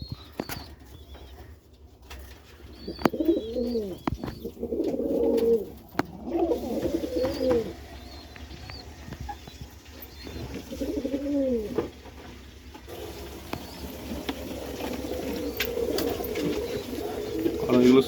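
Domestic Giribaz pigeons coo at close range in several soft, rolling bursts, with quieter stretches between and some faint wing movement and background noise.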